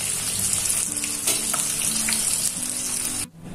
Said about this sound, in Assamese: এয়া মই মাছখিনি এনেকৈ ভাজি ল'ম